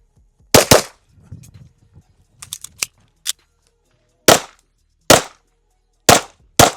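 Sharp, loud pistol shots from a 2011-platform handgun on a shooting drill, fired singly and in quick pairs with short pauses and faint handling noise between strings.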